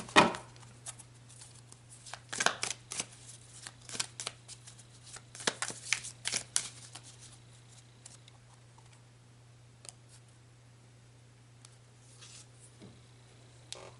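Tarot cards being shuffled: bursts of crisp riffling and flicking, close and clear, thick at first and then thinning into scattered soft taps over a low steady hum, with no talking.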